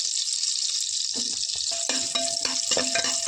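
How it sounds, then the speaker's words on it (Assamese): Steady bright sizzle of hot ghee with occasional small pops and clinks as cinnamon, cardamom and cloves are stirred in a pan, close and fairly loud. "এইখিনি তেলতে ভাজি লৈছোঁ ঘিউতে"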